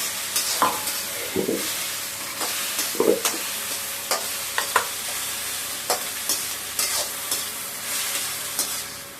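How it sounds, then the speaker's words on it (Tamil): Ivy gourd (kovakkai) sautéing in a pan hisses with a constant sizzle while a spatula scrapes and taps the pan in irregular strokes, nearby and without any voices. "இது கொஞ்ச நேரம் ஒரு பத்து நிமிஷம் வந்து நல்லா வதக்குனாதான் அந்த பச்சை வாடெல்லாம் போயிடும் இந்த மாதிரி வதக்கணும்"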